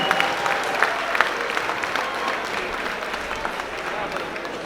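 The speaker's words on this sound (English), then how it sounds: "I think that deserves the biggest round of applause so far tonight for our young artist Kareem." An evening event audience bursts into loud, dense applause for a young artist, with a few sharper claps standing out over the steady crowd clapping.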